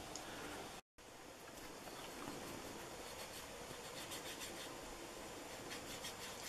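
Tooled leather edge being burnished, a steady, continuous rubbing friction that holds an even level throughout apart from one very short break near the start.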